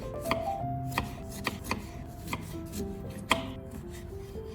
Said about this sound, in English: Slicing it into thin pieces like this